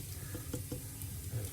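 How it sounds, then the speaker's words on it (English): Ginger and garlic paste frying in a pan gives a soft, steady sizzle with a few light scrapes and taps, fairly quiet and continuous with no talking. "I am going to put in 2 tablespoons of ginger and garlic paste, and you want to fry that"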